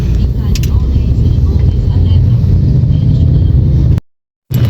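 City traffic in Cagayan de Oro makes a continuous low engine rumble nearby. It holds steady, cuts out abruptly for a moment near the end, then returns.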